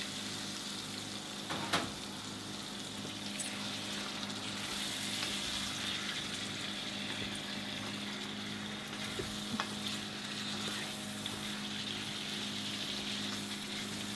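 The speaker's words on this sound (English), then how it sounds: "At this stage it looks a bit dry, so I'm going to add a little bit more water" Chicken curry sizzles and fries steadily in a pan as a little water is added and stirred in, with a constant close bubbling hiss and occasional soft clinks, no talking.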